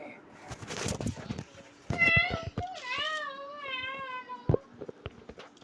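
A cat meows several times in a row, with drawn-out, wavering calls in the middle of the stretch. Sharp clicks and thumps surround the calls, and there is a little background noise.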